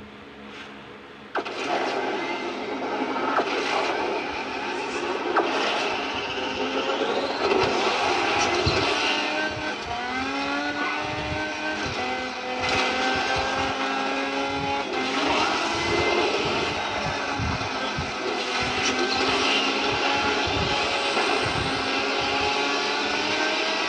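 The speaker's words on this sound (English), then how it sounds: "now, I have to test run the Lamborghini Centenario" Lamborghini Centenario racing in Asphalt 9, a steady roaring engine note rising and shifting through gears over about twenty seconds, with the engine sound continuous and fairly loud and intermittent impact and skid noises.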